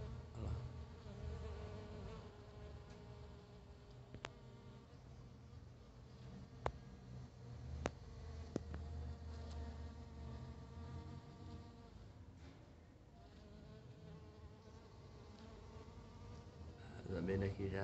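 Bees buzz around flowering Catasetum orchids in a home orchid house, a steady, faint, continuous drone with a few brief louder passes close by.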